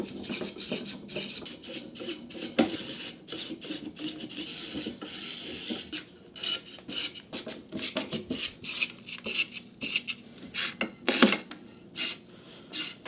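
Screws are tightened into the base of a Maupvit shoe storage cabinet, giving a close, continuous rasping and ratcheting with quick clicky bursts, with no one talking.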